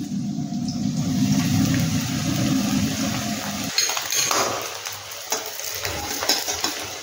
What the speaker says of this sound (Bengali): তো আমি এটাকে ভেজে নিই।